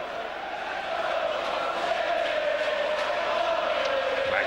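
A large football crowd at an Aston Villa match in 1988/89 keeps up a steady, distant roar and chant, continuous and moderately loud with no clear individual voices.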